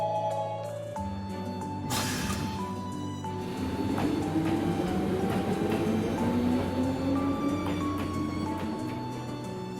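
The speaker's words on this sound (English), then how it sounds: "now she gets on the train." A passenger train in the video game Trails of Cold Steel rumbles steadily on its own, a continuous rolling drone with a rising tone, game music running underneath.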